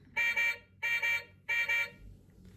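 A Rolls-Royce car horn honks three times in a steady rhythm, each blast short and doubled, close and clear against a quiet background.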